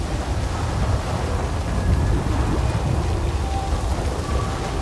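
A heavy rainstorm with rolling thunder in the Star Wars Jedi: Survivor video game, a dense continuous downpour with low rumbling, no voices.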